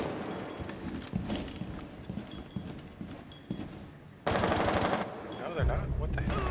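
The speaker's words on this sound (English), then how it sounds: "Someone shooting out this window." Bursts of rapid automatic gunfire in Rainbow Six Siege, shots coming through a window, with dense rattling volleys, footstep-like clatter and a player's voice in between.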